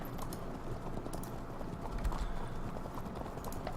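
Cavalry hooves clip-clop in Field of Glory 2 as mounted units move across the battlefield, a soft, continuous patter of many hoofbeats at low level, with faint clicks scattered through it.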